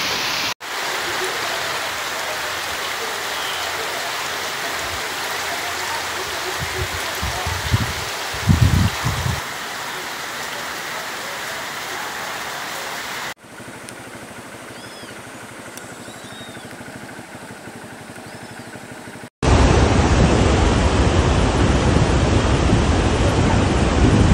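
Heavy rain pours around a house in the sertão, a dense, steady roar of falling water with a quieter stretch partway through before it surges back louder and harsher.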